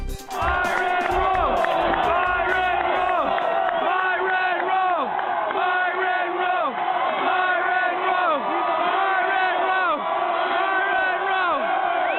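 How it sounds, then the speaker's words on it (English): Football teammates erupt in loud, sustained cheering and whooping during a game, a dense crowd of voices shouting and yelling continuously with some clapping mixed in. "So that's Myron Rolle's teammates cheering after they found out in the second quarter of the game"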